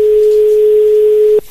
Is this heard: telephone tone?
yes